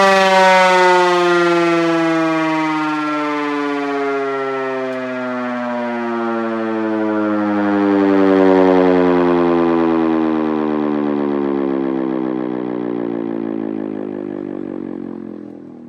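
A refurbished ACA PN-20 outdoor warning siren running, a loud continuous mechanical wail that holds steady, swells slightly, then slowly winds down in pitch.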